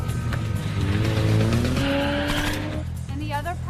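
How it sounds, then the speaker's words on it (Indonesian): Tires squeal in long, high, wavering tones over roaring car engines during a chase scene in an action film, loud and dense throughout the whole stretch. "Celios dan Evie berusaha melarikan diri menggunakan sebuah mobil sehingga terjadilah aksi"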